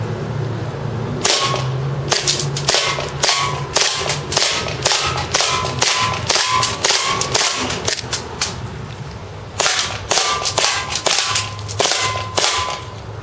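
An ACM PPK gas airsoft pistol fires BBs at a can about ten feet away: a long string of sharp, snappy cracks in quick irregular succession, a brief pause midway, then more rapid shots.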